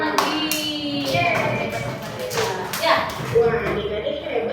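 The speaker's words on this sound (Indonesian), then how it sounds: "tepuk tangan lagi" Children in a first-grade class clapping their hands, scattered uneven claps and taps over a few seconds, with children's voices and shuffling in the room.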